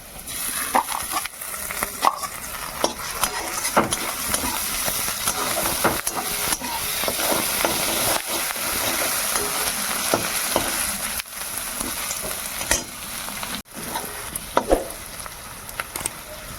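Garlic and ginger fry in a pan of browned onions for a pumpkin and potato curry, giving a steady, close, loud sizzle and hiss with scattered stirring scrapes throughout.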